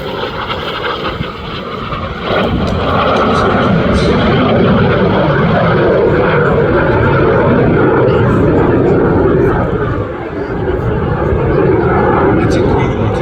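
Propeller aircraft flying past at the Midlands Air Festival 2025 air display, a loud continuous engine drone that swells and holds for several seconds, with outdoor crowd noise underneath.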